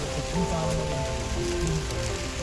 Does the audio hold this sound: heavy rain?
yes